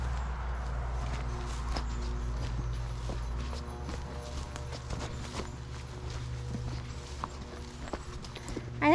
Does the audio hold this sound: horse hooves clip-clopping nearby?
yes